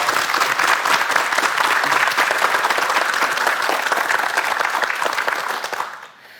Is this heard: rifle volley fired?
no